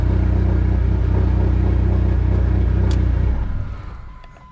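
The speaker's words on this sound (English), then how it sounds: "We have spinning tire" An engine drones steadily with low rumbling harmonics while a car tire spins during a transmission test. The drone then winds down and fades over the last second.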